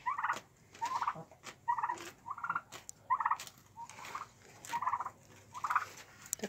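Turkeys gobbling in a farmyard pen where a rooster has been placed among them, a series of about eight loud, close, bubbling gobble bursts repeating roughly every second with no talk.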